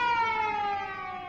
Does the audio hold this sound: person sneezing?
no